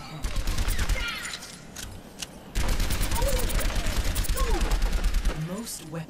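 Overwatch gunfire at training bots: loud, rapid bursts of shots in two long, dense volleys with a short pause between them, with faint game sounds underneath.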